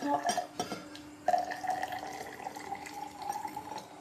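Hot water pours into a glass with a stirrer alongside, a soft close trickle that briefly breaks off and then resumes steadily, with faint clinks and no talk.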